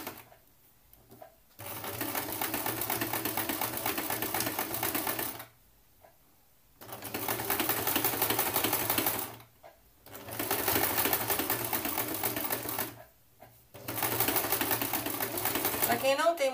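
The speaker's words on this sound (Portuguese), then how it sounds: "é só você ir seguindo a máquina agora" Stitching an appliqué, a domestic sewing machine whirs in long, even bursts of a few seconds each, separated by short quiet pauses; a voice is faintly present near the end.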